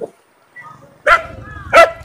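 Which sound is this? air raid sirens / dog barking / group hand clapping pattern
dog barking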